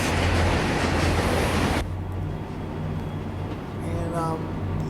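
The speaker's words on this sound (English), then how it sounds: "K4 Kanawathas are really nice, and real people identify them as one of the most iconic C&O locomotives" A C&O K4 Kanawha steam locomotive runs in the Trainz simulation game, with a loud, steady rumble of the moving train that eases slightly after a couple of seconds, while someone talks over it.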